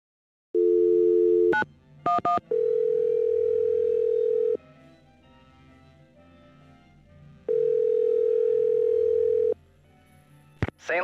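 Telephone tones from a ticket booth phone in a Nancy Drew game. A steady tone sounds, then short dial beeps, a long tone, a pause, another long tone and a final beep, with no talking.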